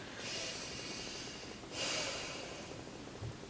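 Deep, slow breathing during a prenatal yoga session: two airy, hissing breaths close to the microphone, an inhale-exhale swell early and a stronger one near the middle, over a quiet room with no talking.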